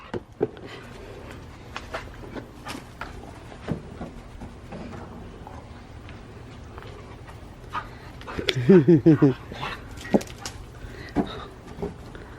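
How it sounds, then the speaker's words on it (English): Pet dogs play fetch and tug-of-war with a ball, panting softly throughout, with a short burst of whiny squeals near the end, all beneath people chatting nearby. "Our dogs suck at this. They don't ever drop the ball."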